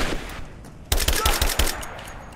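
Video game gunfire cuts in suddenly as a rapid burst of loud, sharp automatic shots, following a quieter stretch of game ambience.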